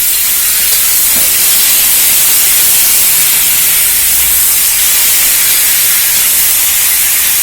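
Chopped tomatoes go into a pan of softened onions for spicy vadagari curry and hiss loudly and evenly, a steady broad sizzle with no talking over it.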